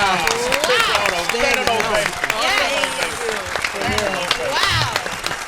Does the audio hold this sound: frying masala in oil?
no